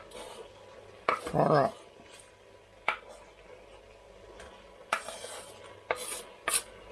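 Onions drop into a pan and get stirred among mince, bringing a few bursts of scraping and clattering utensil noise against a quiet background, with a brief murmur of speech.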